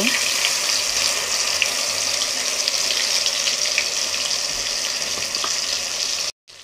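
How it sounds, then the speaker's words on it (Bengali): Mustard spice paste frying in hot oil while chicken chap is cooked, a loud continuous hiss and sizzle held steady up close, cutting off abruptly near the end. "তো আমি তেলের মধ্যে এখন ওই সরিষার মশলাটা দিয়ে দিব।"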